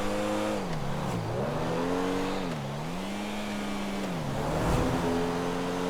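Pfister Comet Retro Custom sports car engine in GTA Online, revving and easing off in repeated waves, a loud close engine tone rising and falling over several seconds with no speech.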